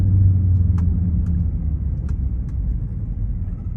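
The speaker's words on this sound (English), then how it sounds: "if you hear a little noise, that's just the four-wheel differentials, transaxles, a little transaxle noise" Volvo XC90 on the road with four-wheel-drive differential and transaxle noise, a steady low rumbling drone from inside the moving vehicle, constant throughout with a few faint clicks and no talk.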